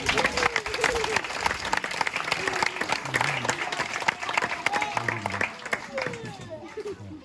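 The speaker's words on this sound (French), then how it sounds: "On peut l'applaudir, s'il vous plaît." Live audience at a comedy show in Montréal applauding, dense sustained clapping with a few cheers that fills the room and tapers slightly toward the end.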